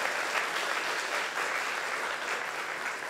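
Audience clapping at a live comedy roast, a dense and steady wash of applause that holds evenly from start to finish.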